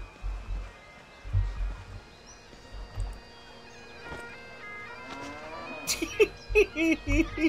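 A cow moos in The Bard's Tale Remastered, with low lowing calls and scattered thuds. Near the end, a series of rising, bellowing pulses grows louder and closer.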